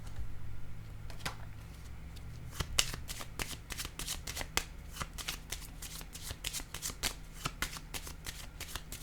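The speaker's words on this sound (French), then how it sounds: "Je vais déposer une carte ici." Tarot cards shuffled and handled, a rapid run of crisp card snaps and flicks continuing throughout at moderate volume, with a low steady hum underneath and no talk.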